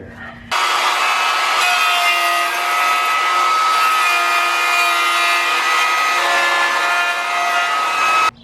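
A power saw rips steadily through the end of a wooden board for a toy block, a loud, continuous whining cut of about eight seconds with a stable tone from start to stop.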